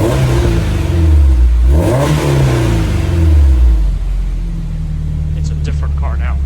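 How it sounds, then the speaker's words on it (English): A Honda S2000 with a custom intake revs hard from idle, its engine note climbing and sweeping up before falling back to a steady, close, loud rumble. "I'm gonna give it some revs."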